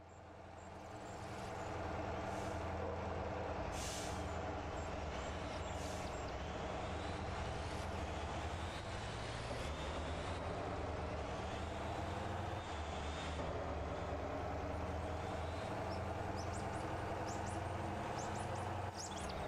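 A truck with air brakes in the driving game Motor Town rumbles in a loud, steady drone that rises and dips slightly, with occasional brief hissing bursts on top.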